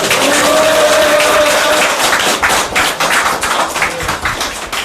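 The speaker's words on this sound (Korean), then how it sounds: "다시 한번 큰 박수로 환영해 주겠습니다." A crowd at a campaign visit in Gwanak district, Seoul welcomes a politician with loud, close clapping that starts dense and breaks into choppier bursts, while a brief tone sounds early on.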